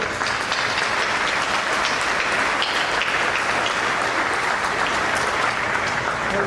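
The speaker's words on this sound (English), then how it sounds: "let's give our friends and families and supporters a hand, please." Steady, dense applause from a large audience at a spring commencement ceremony for a technology and aviation school, filling the space evenly for several seconds with no voices on top.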